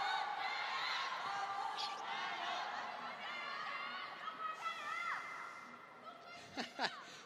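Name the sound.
crowd cheering at a table tennis final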